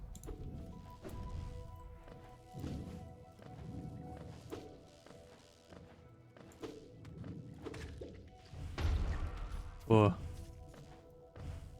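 Explosions in the video game Hollow Knight: a couple of heavy, booming bursts near the end, heard under a player's ongoing talk and game sounds.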